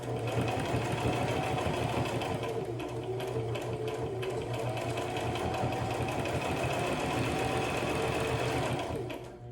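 A sewing machine runs continuously for nearly ten seconds, sewing a simple unpinned fabric face mask, its close, steady whirring hum unbroken until it slows at the end.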